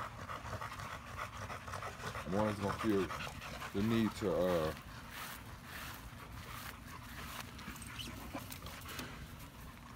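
Dogs pant continuously up close, a steady breathy rhythm running beneath a man's speech.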